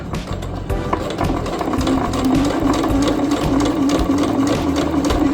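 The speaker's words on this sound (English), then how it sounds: "So I'm gonna continue sewing down the curved part of the pocket." A sewing machine runs steadily and close by as it stitches the curved edge of an apron pocket, a continuous rapid mechanical whirring hum.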